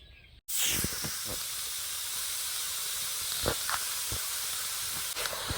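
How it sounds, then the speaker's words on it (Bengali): Carrots fry in ghee in a hot wok, a steady, loud hiss filling the whole stretch, with occasional clinks and stirring knocks over the sizzle. "ঘি দিয়ে গাজরগুলো একটু ভেজে নেব"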